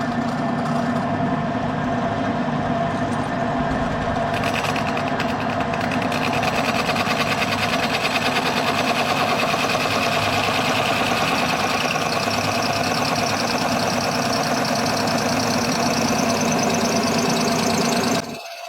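A drill press runs steadily for about eighteen seconds, boring through cardboard during a console repair and modification on a MkIV Roadster, with a loud continuous motor whine and a dense rattling buzz that holds until it cuts off sharply at the end.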